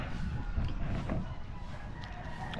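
Chickens clucking and a rooster crowing nearby, with rustling and background noise.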